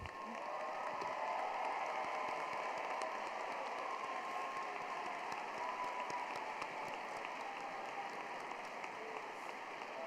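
Sustained applause from a large crowd at a university commencement ceremony, a steady dense patter of clapping that holds evenly for the full length without pause.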